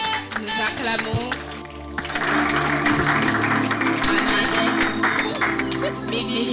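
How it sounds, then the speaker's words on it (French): A church congregation claps and cheers during a Christian gathering, a steady wash of applause and crowd noise building after a moment and staying loud, with music and voices mixed underneath. "Nous acclamons."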